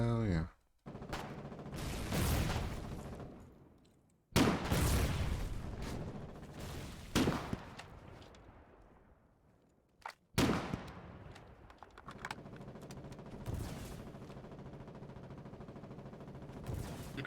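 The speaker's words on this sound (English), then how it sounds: "Okay, mortars." Mortar fire in the online war game Foxhole, heavy booming blasts with long rumbling decays, several big thumps spread apart amid crackling gunfire, loud and close.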